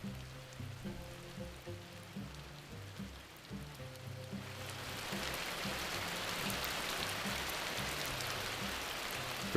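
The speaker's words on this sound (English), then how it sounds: "the daily downpours of the rainy season provide a welcome break from the stifling heat of the dry months" A rainy-season downpour starts faint under a low rumbling tone, then swells after a few seconds into a steady, dense hiss of heavy rain that keeps up to the end.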